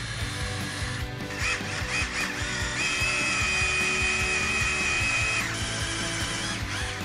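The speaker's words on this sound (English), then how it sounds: "that's where we're gonna drill so we can pop this guy in" A power drill whines steadily at close range, drilling through real chicken nuggets to make a clock, its pitch holding then dropping as it bites, with short starts and stops.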